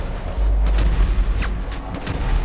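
A slow-motion headshot gunshot in Grand Theft Auto V lands as a deep, booming, drawn-out rumble with a few muffled thuds on top, loud and close.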